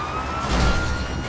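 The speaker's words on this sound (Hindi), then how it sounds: "सायरन तो बंद कर यार।" A police car siren in the GTA 5 video game wails continuously at loud, close range, mixed with engine and traffic noise from the game.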